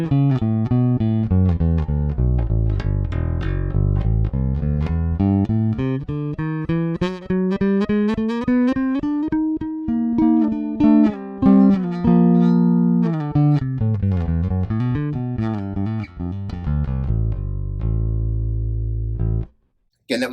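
Ibanez Talman TMB100 PJ bass played through its bridge pickup alone with a flat EQ, a run of plucked notes climbing and falling in a steady, close, continuous line with no talking.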